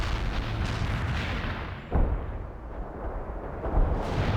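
An artillery barrage in World In Conflict rumbles as a dense, continuous wash of distant shell impacts, with a couple of sharper blasts standing out from the roar.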